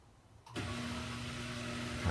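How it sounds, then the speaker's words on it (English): A washing machine stabilized without its shipping bolts kicks into its spin cycle after a brief quiet start, then holds a loud, steady whirring motor hum with a constant drone close by. "Okay, so here's the spin cycle working."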